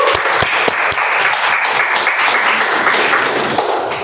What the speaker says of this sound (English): Give a good round of applause to Toastmasters